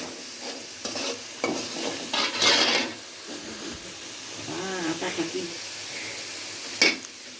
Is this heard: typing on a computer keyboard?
no